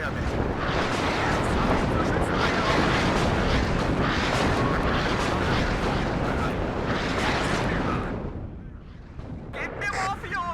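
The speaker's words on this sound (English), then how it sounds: "That's just a lot of artillery coming in there that we're just killing" Dense, continuous rumble of incoming artillery barrage in the Cold War strategy game WARNO, a sustained roar of overlapping blasts that thins out near the end as voices come in.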